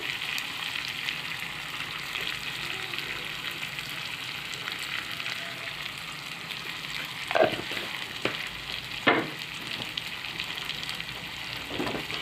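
Leafy greens and meat frying in a pan, stirred around with a steady sizzle throughout and a few louder scrapes of the utensil against the pan.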